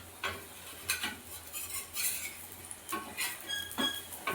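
Rekoch colocasia rolls are turned in a shallow-frying pan, with repeated soft scrapes and clinks of a utensil against the pan over a low sizzle, close and steady.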